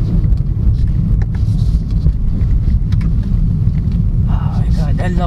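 A 2024 BMW 318i Business sedan driving in sport mode, a steady low engine and road rumble heard from inside the cabin, with a voice speaking briefly over it near the end.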